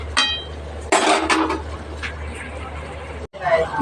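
A metal lid lifted off a pot of potatoes and fenugreek leaves cooking on a home stove, a couple of sharp close clinks and a clatter, with someone talking over it.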